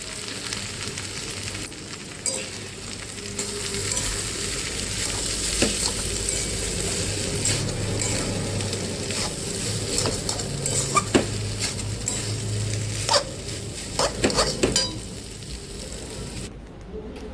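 Chowmein frying and being stirred in a kadai, a steady loud sizzle with scraping and clinks of the spatula against the metal pan throughout, no talking.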